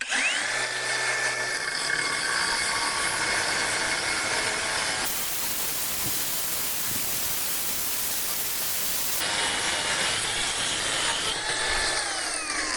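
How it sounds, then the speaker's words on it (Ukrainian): A Procraft AG125C cordless angle grinder whines up to speed, then cuts with a harsh, loud, dense roar for several seconds before easing back to its high motor whine and spinning down, heard up close. "Ну і зараз щось трошки поріжемо."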